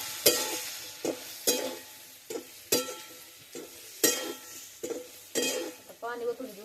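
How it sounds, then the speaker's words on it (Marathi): Brinjal curry is stirred in a pan as it fries, with regular scraping strokes of a spoon against the metal, about one each second, over a faint background sizzle. "चांगला हलवून घ्यायचं."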